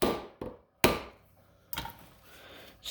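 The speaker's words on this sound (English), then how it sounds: "We're going to take our hammer and try to shock the threads down without trying to turn it" Sharp hammer whacks on a stuck threaded part of a John Deere B tractor that has sat many years, about four loud metallic blows separated by short silences, close and unaccompanied.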